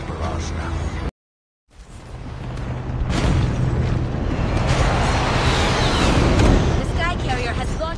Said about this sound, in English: The Sky Carrier has launched missiles.